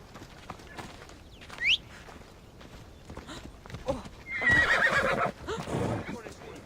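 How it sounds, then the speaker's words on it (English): A flaming horse in Assassin's Creed Odyssey whinnies in a rising squeal, with hoof clip-clops and game ambience around it and a brief loud neigh burst near the end. "It's a flaming horse."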